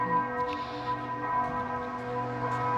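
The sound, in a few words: clock tower bell ringing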